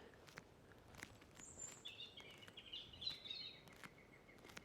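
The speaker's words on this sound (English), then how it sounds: "There's a lovely robin singing there." Faint, high robin song warbles in short phrases on a quiet outdoor walk around St Lawrence on the Isle of Wight, with soft footsteps and light patter beneath; no woodpecker call is distinct.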